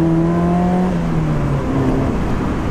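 A 2001 Mazda MX-5 Miata (NB2) sports car engine revs up toward 7,000 RPM with a steady rising drone, loud and close, holding a high pitch before easing off slightly.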